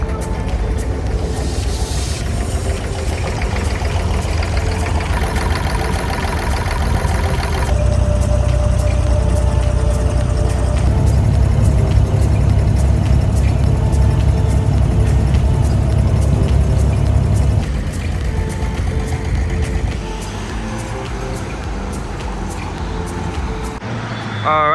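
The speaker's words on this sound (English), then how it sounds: "once the boat gets full, it'll take you across." A passenger ferry boat crossing Dubai Creek runs its engine with a heavy, steady low rumble and droning tones, while voices and other activity carry on around it.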